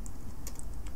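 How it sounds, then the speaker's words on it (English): Typing a command on a computer keyboard: a quick run of light, close key clicks over a low background hum. "just install it by typing sudo apt install"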